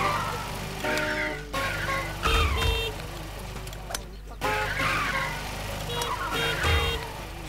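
A car drives and skids in the video game What The Golf. Engine noise rises and falls with short bursts and low thumps, and game beeps and a voice sit underneath.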